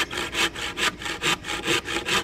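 Rhythmic hand sawing through wood while building an animal cage, about eight steady back-and-forth strokes, close and clear with no talking.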